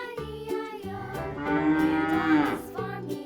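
Cattle mooing on a farm, a few long, loud, close bellows with a rising drawn-out call in the middle, heard alone.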